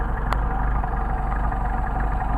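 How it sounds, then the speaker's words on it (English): A Porsche 930 engine idles steadily at about 700-800 rpm, a close, even low rumble with a faint ticking pulse and one brief click, with no voices over it. "It's a real nice idle, I think."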